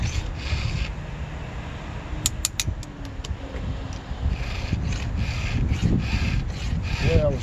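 A hand file sharpens a rip-cut chainsaw chain, giving rough rubbing rasps against the steel teeth that run steadily at close range under a low background hum, with a few brief sharp clicks partway through.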